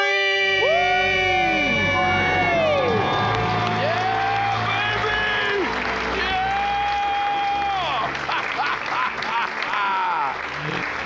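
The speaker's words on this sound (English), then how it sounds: "Let's hear a debt free scream." A studio crowd screaming and cheering at a debt-free celebration, loud and sustained: rising and falling shrieks and whoops over steady applause and clapping, close and dense throughout.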